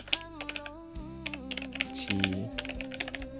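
Rapid, uneven key clicks from a computer keyboard being typed on, with short bursts and pauses, close and clear over faint background hum.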